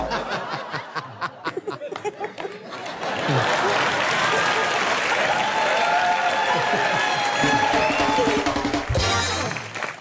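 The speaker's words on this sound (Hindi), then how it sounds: "देख भी रहे हो मेरे लिए कितनी तालियां बज रही हैं" Audience clapping for a small child on stage, starting as scattered claps and swelling into steady, sustained applause with some laughter mixed in, then cutting off near the end.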